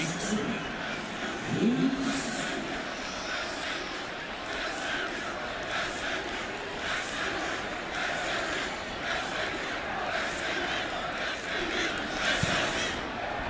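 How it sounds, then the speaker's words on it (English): A large football stadium crowd at an SMU Mustangs game roars steadily after a touchdown, a broad sustained cheer with pulsing swells and a commentator talking over it. "As the crowd is cheering on SMU once again into the end zone"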